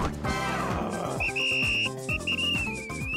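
A mobile game ad with ants has a shrill whistle blown several times over bouncy cartoon music, its piercing tone rising and trilling in short bursts.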